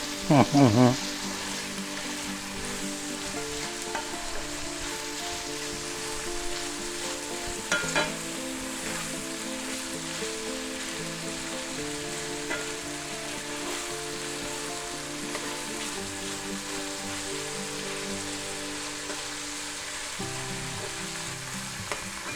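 Chopped onions frying in a pan for an omelette with a steady, soft sizzle, opening with a few clattering spoon knocks and later a faint clink.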